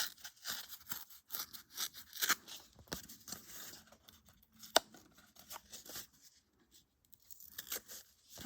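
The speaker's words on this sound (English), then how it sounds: "We don't want a cut line here on the side, so I need to tear it." Corrugated cardboard being torn by hand, a series of irregular ripping and crunching bursts with short pauses between them, close and quiet, with no talk.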